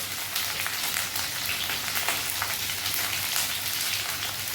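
Soaked mung dal frying in hot refined oil, a steady dense sizzle and crackle like heavy rain, close and continuous with no talk.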